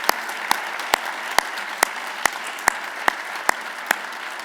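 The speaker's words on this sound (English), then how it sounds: "Let's give them a round of applause." At an International Education Week gala, a crowd applauds award recipients: a steady bed of clapping with one set of hands standing out in sharp, evenly spaced claps roughly twice a second.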